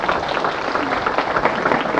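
Listeners at a medical lecture on chronic ischemic heart disease clap for the lecturer, a brief dense burst of close, loud applause filling the whole moment.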